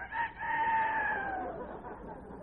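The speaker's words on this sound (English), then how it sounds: "No, that's the rooster. It's morning." A rooster crows once in a vintage radio comedy scene: a single clear, drawn-out cock-a-doodle-doo lasting about two seconds, close and fairly loud, heard alone.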